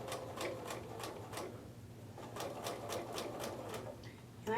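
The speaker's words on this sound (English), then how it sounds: "And pull that back over and continue to sew." A sewing machine stitches through stacked layers of quilting fabric in quick rhythmic bursts of needle chatter. It pauses briefly in the middle and then resumes, fairly quiet and close.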